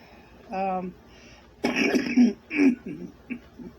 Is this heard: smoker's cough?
yes